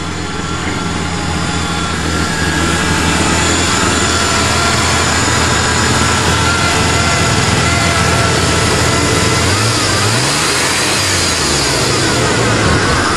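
1994 Chevrolet Blazer with a 4.3 engine starting cold, roaring loud and close at a steady high idle with a brief rising rev near the end, no voices.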